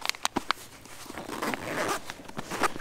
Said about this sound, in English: That's a one-way zipper on the front.